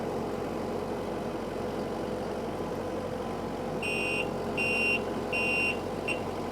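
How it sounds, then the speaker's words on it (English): The backup alarm on a LeeBoy 8510E asphalt paver gives four evenly spaced electronic beeps near the end, sounding over the steady loud drone of the machine's idling engine, with no voices. "Yeah, that'll be the first thing that comes off right there, the backup alarm."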